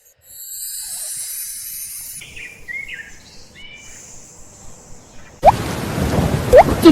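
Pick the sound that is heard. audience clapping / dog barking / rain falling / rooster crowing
rain falling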